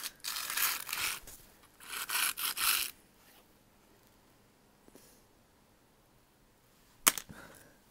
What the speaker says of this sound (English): The more we scrape it, the more the whole phone's breaking